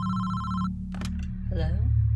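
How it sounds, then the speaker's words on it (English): A telephone gives a short electronic ring at the start, followed by a couple of clicks and a voice beginning to speak over a low hum. "A few hours later, the phone rang."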